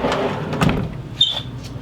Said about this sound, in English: look at how open they come open. I mean, it's a full extension drawer glide, allowing you to access that whole drawer